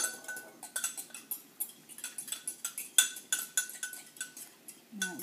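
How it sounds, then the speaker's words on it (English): A fork clinks repeatedly against a bowl while stirring yeast into warm water, a quick, even rhythm of bright metallic taps. "I'm just going to stir it with my fork"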